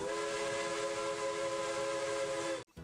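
A steam train whistle used as a sound effect, one long loud sustained blast with a rich chord-like tone that cuts off abruptly near the end.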